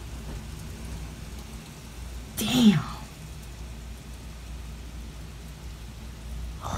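Steady heavy rain with hail hisses throughout during a severe thunderstorm in southeast Michigan, with a low rumble beneath and a short spoken exclamation partway through.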